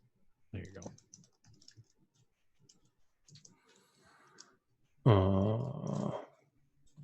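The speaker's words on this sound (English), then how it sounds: "Why am I typing?" Computer keyboard typing during a live coding session, heard as sparse bursts of clicks between stretches of talk, with a loud voiced outburst near the end.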